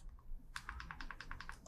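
Quick, evenly spaced clicks from typing on a TV on-screen keyboard to search for the SFN app, about ten crisp near ticks in steady rhythm.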